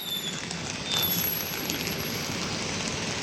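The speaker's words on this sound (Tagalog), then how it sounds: "So, malakas ang ulan." Heavy rain pours down steadily during an approaching typhoon at Manila Bay, a dense, even roar of drops that stays loud and unbroken throughout with no voices.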